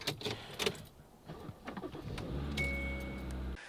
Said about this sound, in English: See if my car start.